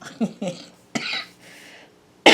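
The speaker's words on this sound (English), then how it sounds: "This is not a smoker's cough." A few short, raspy flu coughs and throat-clearing bursts close to the mic, ending in a sharp harsh exhale.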